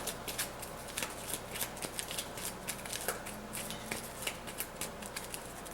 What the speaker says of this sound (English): this card goes back into this pile, so we shuffle it in